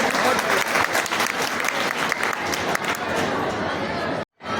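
Dense crowd applause for a schoolgirl honoured for her class 5 results, steady and fairly loud with some chatter mixed in, then cutting off abruptly near the end.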